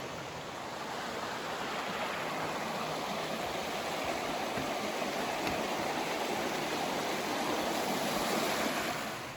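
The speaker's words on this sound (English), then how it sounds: "that's meant bonus waterfalls here and there with all the extra water runoff" Steady broadband rushing of waterfalls and stream water swollen by rain runoff, continuous and fairly close with no voices.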